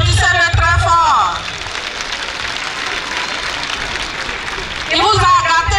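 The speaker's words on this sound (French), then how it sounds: "Applaudissez-le très fort." A crowd at a PDCI-RDA political gathering in Botro applauds a mayor: a dense, steady wash of clapping that runs for several seconds, with talk over its start and end.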